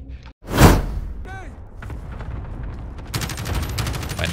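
A grenade explodes in the video game Warzone with one loud, broad blast and a rumbling tail, followed by rapid gunfire crackling in the background.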